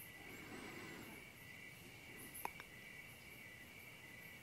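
Crickets chirp in a steady, high, pulsing drone under quiet outdoor ambience, continuous and moderately close, with a couple of faint brief clicks partway through.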